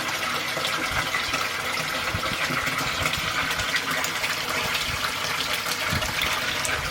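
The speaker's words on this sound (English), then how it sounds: "cleaning out the impeller has increased water flow dramatically" Jebao pond pump running after its impeller was cleaned, pushing a strong flow of water with a steady, continuous gushing and splashing close by, loud and unbroken throughout with no voices.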